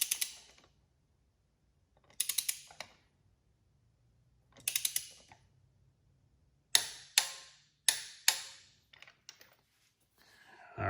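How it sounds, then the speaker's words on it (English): A click-type torque wrench tightens a spark plug on a BMW E46 to 22 foot-pounds, producing crisp ratcheting clicks in short bursts separated by pauses, with several quicker clicks near the end and quiet gaps between. "I'm gonna snap my torque wrench on here and I'm gonna go to 22 foot-pounds."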